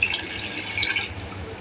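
Water pours steadily into a pot of chana pulao masala, the fried chickpeas and spices with oil risen to the top, giving a continuous close splashing rush with no voices.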